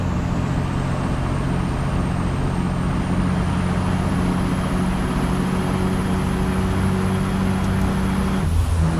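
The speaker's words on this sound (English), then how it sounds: "It's a nice truck, listen," A Kenworth W900A truck with a split cab and flat glass, driven in American Truck Simulator: a steady, loud diesel engine drone and road rumble that hold evenly throughout, with a short hissing release near the end.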